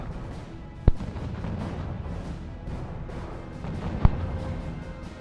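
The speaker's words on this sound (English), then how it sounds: "One sneaky artillery gun is standing here and shooting at the buildings already." Artillery gun shelling buildings in the strategy video game R.U.S.E., two sharp, heavy booms about three seconds apart over a low rumbling battlefield background.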